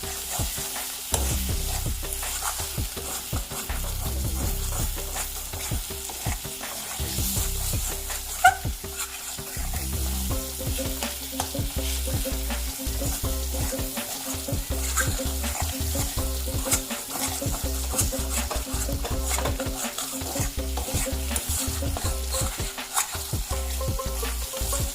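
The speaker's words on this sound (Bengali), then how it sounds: "একটু নাড়বেন, আঁচ কমে রাখবেন, না হলে তলার দিকে লেগে যাবে মশলা" Spices for haleem frying and sizzling steadily in a pan over low heat, with continuous stirring scrapes and occasional clinks of the spoon against the pot, close and moderately quiet.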